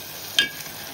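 Ground spices hitting hot oil in a pan of cooked onion and tomato give a short sizzling burst with a stirring scrape, close up and alone.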